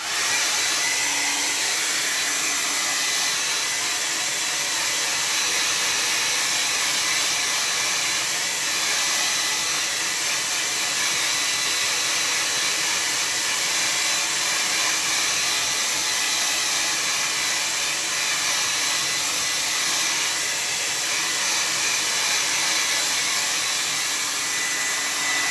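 Hair dryer blowing a steady, loud broadband whoosh to dry a landscape painting, continuous and unchanging for the whole stretch with no talk.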